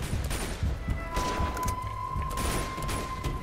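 Gunfire in the video game Uncharted 2 crackles in rapid bursts, a dense run of sharp, fairly near shots with a steady tone ringing over them and no talking.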